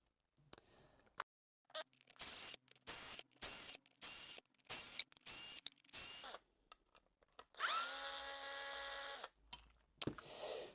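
Power drill or driver backing out small M4 bolts from an existing hinge bracket, in a series of short, close whirring bursts with brief pauses, ending in a longer, steadier run.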